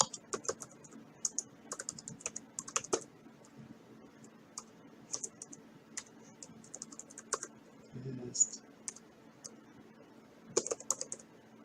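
Typing on a computer keyboard, close and clear, with bursts of quick key clicks separated by short pauses and a faint low hum beneath.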